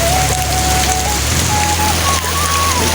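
Large hailstones pelt the ground in a dense, loud, unbroken patter that sounds like a heavy downpour, with a thin whistling tone drifting faintly above it.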